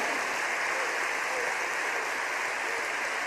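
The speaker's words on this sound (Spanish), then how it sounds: "Vamos a darle un gran aplauso." A church congregation gives loud, dense applause during a sermon. The clapping is steady and blends into a rain-like roar with no breaks from start to end.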